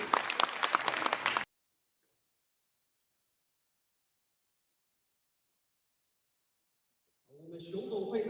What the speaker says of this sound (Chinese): 我们以热烈的掌声恭喜双方完成签署